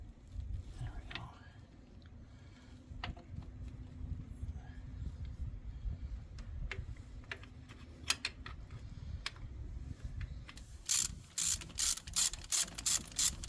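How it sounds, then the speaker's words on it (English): A ratchet wrench turns the thermostat housing bolts on a Dodge Dakota, giving quiet clicks under a low hum and then a louder run of rapid, close ratcheting bursts, while people talk faintly. "it's ratcheting back"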